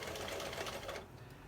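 A sewing machine stitches a nylon mask strap with a fast, even mechanical whir that runs for about a second, then drops off to near quiet.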